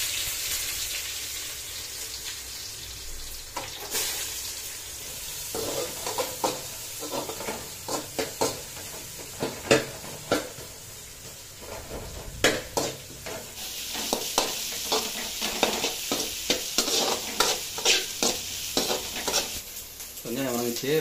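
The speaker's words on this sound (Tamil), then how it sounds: "கடுகு பொரிஞ்சிச்சு, கடுகு பொரிஞ்சோன்னு வெங்காயம் போடுறோம்" Mustard seeds popping and chopped onion frying in oil for pumpkin sambar, a steady hiss broken by many sharp crackles and stirring clicks, close and fairly loud.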